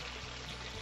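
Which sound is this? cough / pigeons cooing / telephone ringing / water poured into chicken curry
water poured into chicken curry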